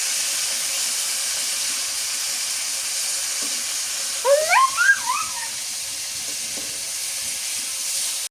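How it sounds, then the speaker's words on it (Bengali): Chopped onion fries in a pan toward crisp brown shreds, a soft, even hiss close by, with a brief cluster of high squeaky chirps partway through. "আমি করে পেঁয়াজ কুচি দিয়ে দিই, বেরেস্তার মতো করে ভাজি নিই"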